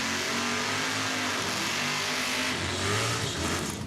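A 1982 Pontiac Trans Am drag race car at Saskatchewan International Raceway revs loudly and steadily, its engine note holding under continuous track noise with a rising surge near the end.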